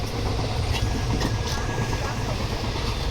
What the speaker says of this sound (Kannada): ಅಂತೂ ಟ್ರೈನ್ ಬಂತು